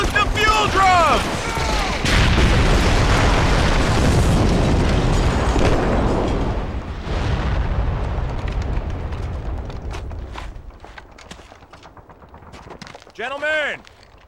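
Fuel drums blow up after being shot in Call of Duty 2, several heavy booming blasts rolling into a long loud rumble, then a few sharp later bursts.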